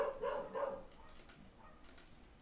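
A dog barks three times in quick succession close to the microphone, the barks fading into a quiet room with faint clicks and rustles afterward.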